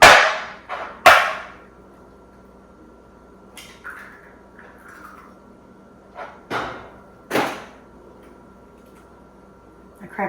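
Egg cracked into a bowl while mixing cake mix cookie bars, several sharp isolated taps and cracks spaced out over a quiet kitchen background, close by.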